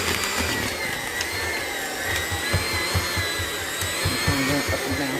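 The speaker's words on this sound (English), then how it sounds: "so I just use my regular blender" An ordinary Walmart hand mixer churns chocolate chip cookie dough in a bowl, a loud continuous whining motor drone with a steady low chugging pulse, close and unbroken.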